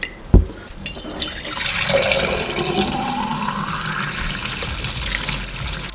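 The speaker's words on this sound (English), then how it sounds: "Now we wash the rice." Rice for sushi being washed by hand in water, opening with a brief bump, then a continuous swishing, trickling slosh that carries on steadily at moderate loudness.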